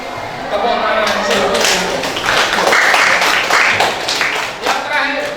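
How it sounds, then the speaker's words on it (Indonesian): A classroom of students claps hands together in an Islamic religious education lesson. The clapping is loud and close and comes in a ragged burst with some voices mixed in. "Tepuk tangan."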